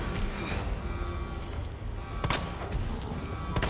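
A grenade blast in Resident Evil 2 Remake erupts as loud, dense rumbling roars, with several sharp explosive bursts standing out above the constant din of game combat.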